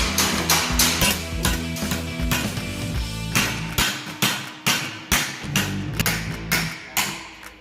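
A welded steel test piece held in a vise takes rapid, heavy hammer blows, loud ringing metallic strikes in a fast uneven rhythm, close by with no talking.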